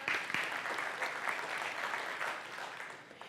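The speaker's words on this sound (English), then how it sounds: "Yeah, you can clap for that." An audience bursts into steady applause, a wash of many hands clapping at moderate distance that holds briefly and then tapers off.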